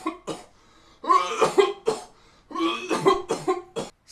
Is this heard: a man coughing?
yes